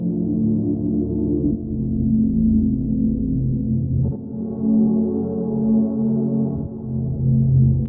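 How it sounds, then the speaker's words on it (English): A warm, sustained synth pad drones steadily with soft, blended harmonics, shifting chord around the midpoint and continuing smoothly to the end. "Ambient pad."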